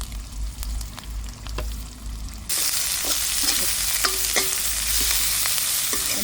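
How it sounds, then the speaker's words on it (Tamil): Onions, curry leaves and spices frying in oil while being stirred, a loud hiss that swells suddenly partway through, with scraping and clinking of the spoon against the pan, close and without talk. "எல்லாத்தையும் நல்லபடியாக கிண்டி விடுவேன்."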